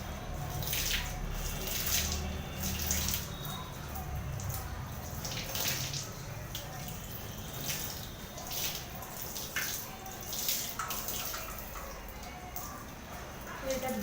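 An item is washed under running water, a continuous splashing rush close by with brief louder gushes, fairly quiet overall.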